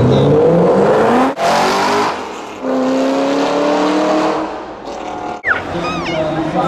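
A Ford GT40 race car on a hot lap revs hard close by, engine pitch climbing through gears with brief drops between shifts and a short tire chirp near the end.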